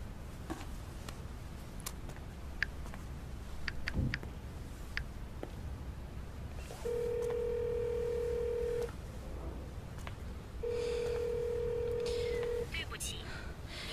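A phone call that will not connect: faint keypad clicks, then two long, even ringback tones separated by a pause, with quiet room tone and a voice between them.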